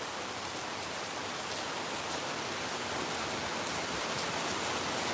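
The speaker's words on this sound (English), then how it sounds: "I don't know if you could see the rain." Rainy-season rain falls on Phnom Penh as a dense, steady broadband hiss, even and unbroken for the whole stretch, with no voices over it.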